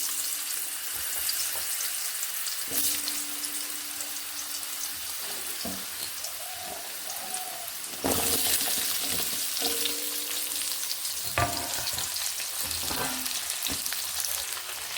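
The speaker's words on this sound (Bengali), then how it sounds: "নুন মিশিয়ে আলুগুলোকে ভেজে নিচ্ছি" Steady, loud sizzling of salted potatoes frying in oil left from frying fish fills the scene, with occasional clinks and scraping of a utensil stirring the pan.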